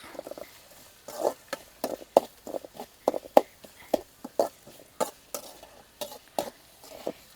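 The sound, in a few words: sautéing curry leaves, onions and green chillies in a pan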